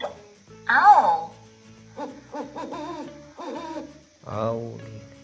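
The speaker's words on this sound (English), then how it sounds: "Owl." Talking flash card toy plays a recorded owl hoot, a couple of electronic hooting calls heard close up, broken by a voice speaking between and after them.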